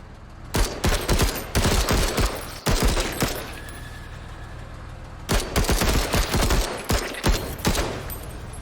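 Automatic gunfire from the tactical video game Menace rattles out in dense, loud bursts, one cluster early and another near the end, with quieter gaps between.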